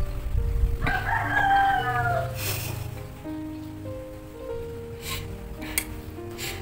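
A rooster crows loudly nearby, one drawn-out cock-a-doodle-doo at the start of the clip, followed by quieter background sounds with a few sharp clicks.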